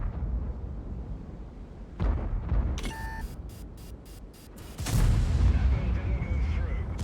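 A tank gun shot in a tank battle game, a loud booming blast followed by a rumbling crash and a short rapid mechanical clatter, over background battle noise.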